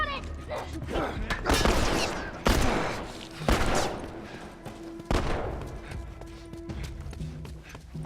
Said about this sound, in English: We're just getting shot out there